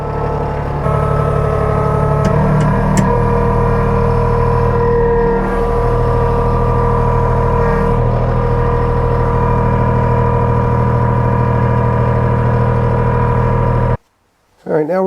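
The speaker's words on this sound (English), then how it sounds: "Move this thing on inside where we'll service the blower." A Kubota B2782B tractor with a front snowblower drives indoors, its engine droning steadily with a low hum and faint clanks, then it cuts out near the end.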